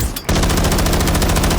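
Automatic gunfire in Call of Duty, a rapid continuous burst of loud shots that begins abruptly after a brief pause and keeps going.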